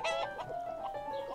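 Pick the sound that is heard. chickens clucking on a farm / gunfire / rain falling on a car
chickens clucking on a farm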